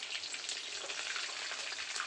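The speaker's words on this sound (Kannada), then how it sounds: "ಈಗ ಹಿಂದಕ್ಕೆ ಸರಿವ ಎಣ್ಣೆ ಸಿಡಿದೈತಿ" Hot oil crackles and spatters steadily around frying chicken kebab pieces, a dense, close sizzle that holds at an even level throughout with no voices.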